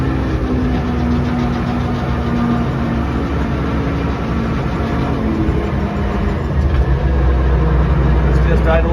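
A Steiger Bearcat tractor engine idles steadily along a road, a continuous low rumble that stays loud and even throughout with no break.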